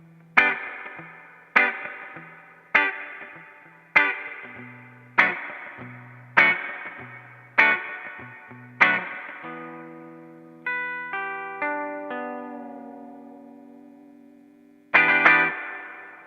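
An electric guitar plays through a Genome vintage spring reverb effect: a run of evenly spaced plucked chords, each decaying with springy reverb tail, then a short melodic phrase and one final chord. No talking.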